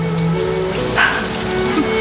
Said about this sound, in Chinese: 这样淋雨法会生病的。